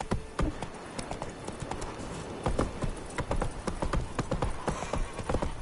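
Horse hooves gallop in a fast, steady clip-clop rhythm through a video game scene in The Witcher 3, loud and close, with a brief whinny and a few words spoken over it.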